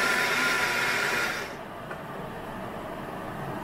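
Kitchen blender whirring as it mixes rice for Mexican red rice, a steady loud motor drone that cuts off sharply after about a second and a half, leaving quiet room noise.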